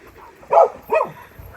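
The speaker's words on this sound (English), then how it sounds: "So Tika's barking like crazy" A farm dog barks twice in quick succession, two loud close woofs about half a second apart followed by a soft faint yip, with otherwise quiet surroundings.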